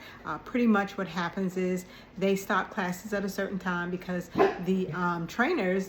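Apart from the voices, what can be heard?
dog barking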